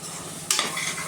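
Tomatoes and onions sautéing in a pan for a home-style mutton curry, a steady close sizzle with a sharp burst of stirring scrape partway through, no voices.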